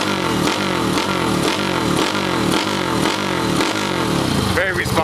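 Small Honda Dax CT70 clone motorcycle with a turbo, engine revving close and loud in a rapid pulsing rhythm, with a rattling, busy mechanical tone throughout.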